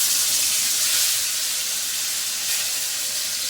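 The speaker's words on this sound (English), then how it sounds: "I'm just going to take my chicken, pop my chicken in there" Two chicken breasts dropped into hot, smoking oil in a pan for chicken fried rice, giving a steady, loud broadband sizzle and hiss that fills the whole stretch without letup.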